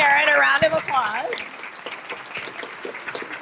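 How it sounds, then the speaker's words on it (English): Clapping from a crowd starts right after a voice finishes speaking, a steady patter of many hands that carries on to the end. "So let's offer Karen a round of applause."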